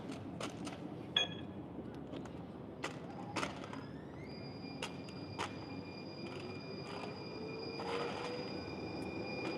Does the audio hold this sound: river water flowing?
no